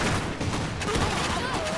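Dense, continuous battlefield gunfire from the Iron Harvest strategy game, a loud rattle of overlapping shots and explosions running throughout, with no speech over it.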